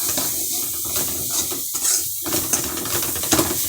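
A spoon stirs masala in a cooking pan, making repeated scraping and clinking strokes against the metal over a low background sizzle, close and uneven in rhythm.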